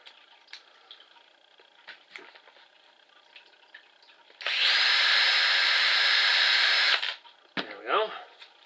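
Rivet tool setting a pop rivet in a homemade airsoft mask: light handling taps and rustles, then a loud, sustained mechanical burst of about two and a half seconds, followed by a short rattle.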